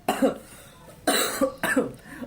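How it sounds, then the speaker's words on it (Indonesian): Three sharp coughs, close and loud, spaced out with brief quiet gaps between them. "ini batuknya nggak bercanda ya"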